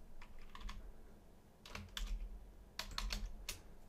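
Keys tapped on a Mac keyboard while entering a new file name, a few short bursts of quick clicks with pauses between, close and fairly quiet.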